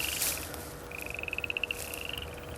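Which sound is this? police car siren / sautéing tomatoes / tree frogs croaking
tree frogs croaking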